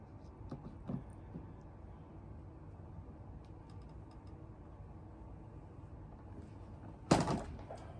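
A shampoo tank clicks into place on an early-generation Kirby vacuum where the bag normally goes, giving one sharp, loud plastic thunk near the end after a few faint handling knocks in a quiet room.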